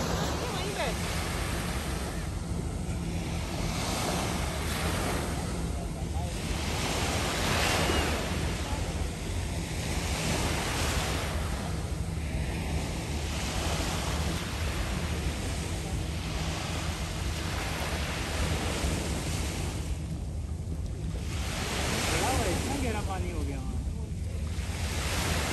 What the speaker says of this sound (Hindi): बस पानी की आवाज़ ही आवाज़ है,